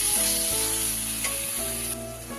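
Spices with turmeric sizzling as they are stir-fried, a loud, steady close hiss that eases slightly toward the end, with a brief stir in the middle.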